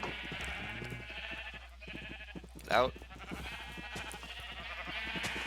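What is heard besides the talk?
sheep bleating in Minecraft video game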